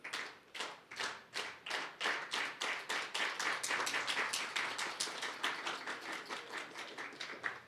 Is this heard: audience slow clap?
yes